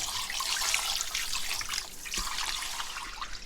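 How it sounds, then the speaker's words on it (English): Oxtail pieces being rinsed in a second change of water, a steady close splashing and trickling of water with no voices. "Still a little dull, so we're just going to rinse second time."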